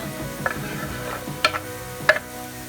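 Carrots and artichokes sizzling softly as they sauté in olive oil in a pot, with occasional clinks and scrapes of a utensil stirring the contents.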